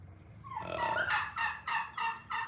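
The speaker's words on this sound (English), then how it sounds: "my turkeys are out there jibber jabber." Turkeys gobble outdoors with a rising burst followed by a rapid series of four or five loud, rattling gobble pulses, fairly close and with no speech over them.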